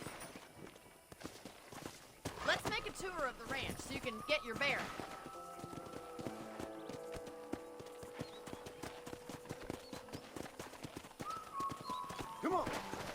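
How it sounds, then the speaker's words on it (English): Horse hooves clip-clop on a ranch in the Red Dead Redemption video game, a steady walking then trotting rhythm close by, with a snort and spoken dialogue over the hoofbeats. "let's see if you can still ride a horse"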